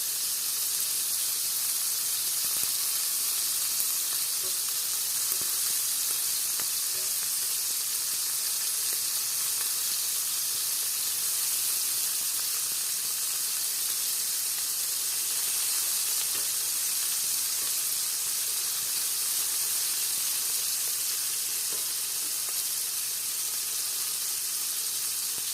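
Steady hissing sizzle of pizza cooking in a pan over medium heat, continuous and even for the whole stretch with no talking, just a broad frying hiss.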